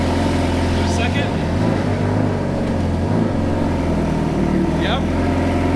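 A supercar engine drones steadily under load in second gear, heard from inside the car, with a low continuous rumble and a few brief whining shifts while someone talks over it.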